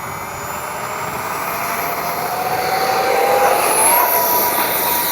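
An X-Fly 40mm F-15 RC jet's electric ducted fan whines steadily and builds in pitch as it taxis over bumps and takes off, with a rising high tone over a constant broadband rush.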